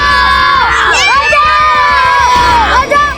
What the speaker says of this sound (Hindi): ये वहम नहीं, सच में किसी बच्चे की चीखने की आवाज थी